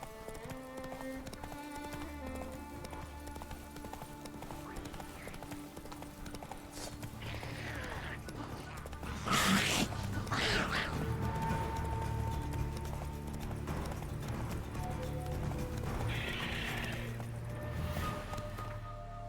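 Roach, the horse in The Witcher 3, gallops with steady rhythmic hoof clip-clops over game music, with a burst of neighing midway; a voice urges the horse on briefly.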